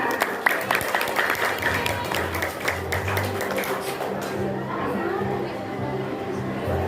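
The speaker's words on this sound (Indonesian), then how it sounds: "Beri tepuk tangannya." An audience at a grade 6 farewell ceremony for SDN 2 Labuhan Ratu elementary school students applauds steadily, with crowd chatter and a voice talking over the clapping throughout.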